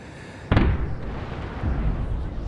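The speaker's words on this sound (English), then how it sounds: "I fire chain shot into the French ship" A ship's cannon fires chain shot in the naval battle game Napoleon Total War: one sharp boom followed by a rumbling tail, then a second, softer distant thud.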